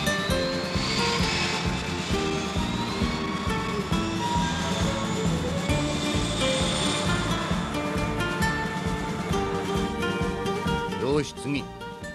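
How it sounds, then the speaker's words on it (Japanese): Anime sound effect of the Bison combat helicopter launching: a loud, continuous roaring engine and jet-like whoosh with rising whine sweeps, over a dense music score throughout. "戦闘ヘリバイソン発進せよ。"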